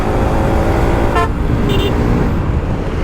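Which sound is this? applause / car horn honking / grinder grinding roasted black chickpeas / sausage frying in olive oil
car horn honking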